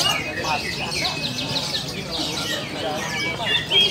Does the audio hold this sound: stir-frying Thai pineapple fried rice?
no